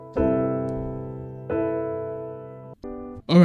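Sustained piano chords with a power chord in the left hand ring out close and loud. Two long chords are followed by a short third, and a brief sung or spoken voice enters at the end.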